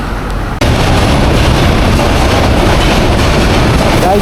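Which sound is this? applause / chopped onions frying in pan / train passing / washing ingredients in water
train passing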